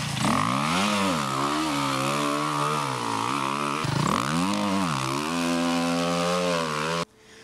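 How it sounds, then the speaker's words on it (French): An enduro motorcycle engine screams at high revs with the clutch pulled, pitch sweeping up and down as the throttle is worked before a sand climb, loud and close, cutting off abruptly near the end. "je prends mon embrayage pour lancer le moteur très fort dans les tours"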